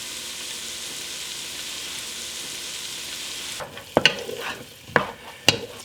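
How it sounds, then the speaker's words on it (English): Red peppers being stirred in a pan for chili with cumin and sugar, after a steady frying sizzle, a few distinct scraping stir strokes near and fairly loud. "So I'll give these a good stir."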